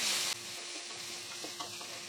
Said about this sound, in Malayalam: ഇനി ഇതിലോട്ട് വലിയൊരു തക്കാളി ചെറുതായിട്ട് അരിഞ്ഞിട്ട് കൊടുക്കാം. ഒന്ന് വഴറ്റി കൊടുക്കാം.